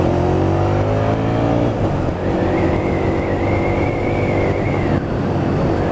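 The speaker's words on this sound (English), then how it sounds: "Here goes the test ride on the VTR250." A 2007 Honda VTR250 motorcycle on a test ride, its engine loud and close with a continuous droning run, pitch rising and easing through gear changes, plus a steady whine and wind rush.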